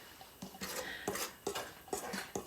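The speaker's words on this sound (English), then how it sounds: "I'm just going to stir it up." Spoon stirring cream and flour in a bowl for two-ingredient biscuits, with a series of light, distinct clinks and scrapes at an irregular rhythm, close and fairly quiet.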